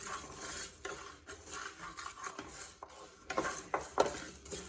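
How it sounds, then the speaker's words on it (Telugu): Poppy seeds dry-roasting in a hot pan for a Kadaknath chicken curry masala, stirred with a spoon that scrapes and clinks against the metal in irregular close strokes over a faint patter of crackling seeds. "ఈ గసాల తొందరగా వేగిపోతుంది"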